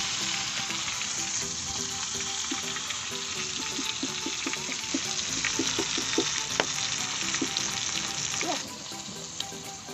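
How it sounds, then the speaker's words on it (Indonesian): Quail meat fries in hot oil, a loud, dense crackling sizzle with scattered pops and stirring clinks, close and continuous for the full stretch, easing slightly near the end, no talking. "Nih, ini yang satu dipasak, digoreng ya"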